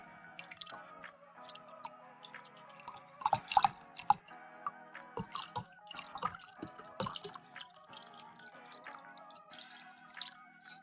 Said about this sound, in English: So we're gonna pour some water.